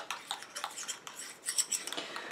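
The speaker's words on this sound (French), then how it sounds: "Je mélange." A utensil clinks against a container while stirring a homemade nourishing night cream mixture, a quick run of light metallic taps and scrapes, close and fairly quiet.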